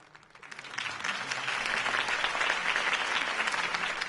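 Crowd applause after a campaign speech in the Batman Telltale video game swells in from a quiet start and holds as a dense, steady wash of many hands clapping at once.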